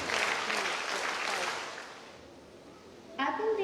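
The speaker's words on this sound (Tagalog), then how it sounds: "5 palakpak po para sa ating lahat." Audience applause at a thanksgiving Mass for graduating students, a broad burst of clapping that swells, fades to a quieter patter, then returns loudly near the end, with faint voices mixed in.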